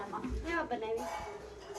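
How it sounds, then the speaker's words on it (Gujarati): A tapelu cooking pot is picked up and handled, giving faint metallic clinks and scrapes close by under low voices. "તપેલું લઈ લો."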